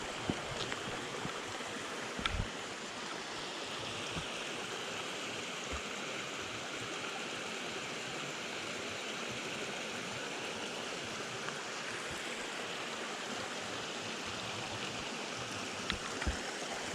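A mountain stream rushes steadily at a trail crossing on a June hike, a continuous close, even roar of flowing water with no voices.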